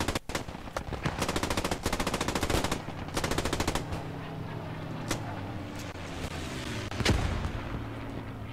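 Gunfire in the World War II shooter game Post Scriptum: rapid machine-gun bursts and single heavy shots, some booming like artillery, dense and continuous at moderate loudness.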